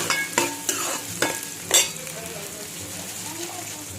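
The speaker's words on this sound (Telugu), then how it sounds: "ఒక 6 పచ్చిమిరపకాయలు వేసుకోండి. తిప్పేసేయండి, మిక్స్ చేసేయండి." Green chillies frying in a pan are stirred with a utensil, giving a few sharp scrapes and clacks over a steady close sizzle, with the scrapes fading and the sizzle carrying on alone.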